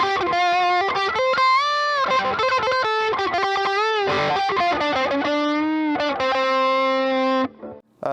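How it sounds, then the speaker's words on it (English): Heavily distorted electric guitar through a Death By Audio Fuzz War fuzz pedal, playing a continuous run of sustained chords and lead notes, loud and close, with a brief dip near the end. "So that's a little bit more of a distortion kind of setting."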